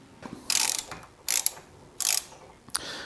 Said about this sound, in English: With an 8mm hex wrench, we're going to remove the bolt inside the fork.